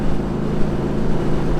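Speedster car engine running rough on one cylinder with an electrical fault, a loud, steady, close droning rumble with uneven low throb and no talk.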